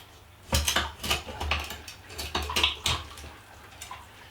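A knife works through a snapper, scraping and crunching in irregular bursts as the fish is filleted, close and fairly clear, with short gaps between the strokes.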